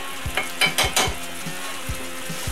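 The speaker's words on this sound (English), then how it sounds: "Give it a quick stir." Browned sausage and its drippings are stirred in a frying pan for chicken fried steak gravy. A steady sizzle runs throughout, with a few sharp scraping strokes from the stirring near the start.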